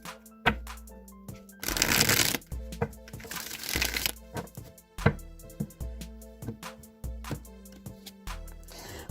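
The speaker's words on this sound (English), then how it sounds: "one more shuffle and then I'll draw 3 cards" Cards are shuffled up close in two quick riffling bursts, separated and followed by soft taps and clicks as the deck is squared.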